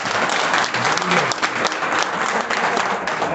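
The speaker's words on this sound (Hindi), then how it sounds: "तालियां इनके लिए जोरदार।" Audience at an RCM Business motivational seminar in India breaks into steady, dense applause welcoming first-time attendees, a continuous wash of many hands clapping throughout.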